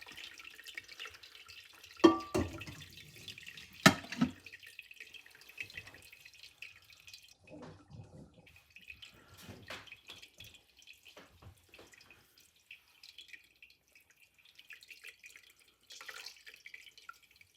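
Hot ricotta whey draining through cheesecloth in a colander gives soft, irregular drips and trickles, with a couple of sharper splashes early on, fairly quiet and close with no talking.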